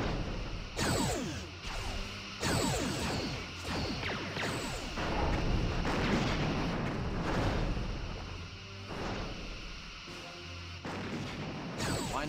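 Rear torpedo tubes of a starship firing in the Star Trek Bridge Commander space combat game: a run of six or seven booming launches with sweeping, whooshing tails, spaced roughly a second and a half apart, loud and close.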